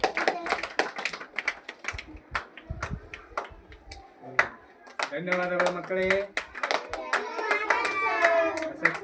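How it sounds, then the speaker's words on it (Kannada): A group of children claps sharply to welcome a teacher, first as scattered crisp hand slaps and then as a louder, fuller burst, while a voice speaks over the later part. "ಎಲ್ಲರೂ ಅವರಿಗೆ ಚಪ್ಪಾಳೆ ಮುಖಾಂತರ ಸ್ವಾಗತ ಮಾಡಿಕೊಳ್ಳಬೇಕಾಗಿ ವಿನಂತಿ"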